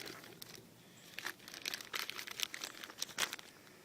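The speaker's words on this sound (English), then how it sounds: "There's some tissue paper." Tissue paper crinkles and rustles in bursts as it is handled close by, soft and faint, with irregular crunchy rustles.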